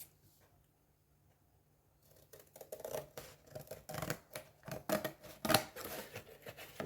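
Wooden ice-cream sticks being cut into pieces for a small Christmas decoration, heard as a quick series of close, crisp snips and crunches after a short quiet start, with no speech.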